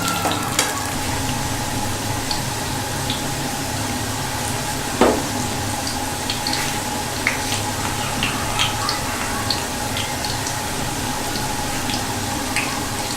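Onions browning in a pan over a full flame, a steady, even sizzle with small pops and crackles throughout, fairly close and without talk.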